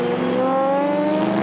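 Race cars circuit Spa-Francorchamps in heavy rain and spray at reduced speed behind a safety car during a Supercar Challenge round, a loud sustained engine drone with a slowly rising pitch, no voices.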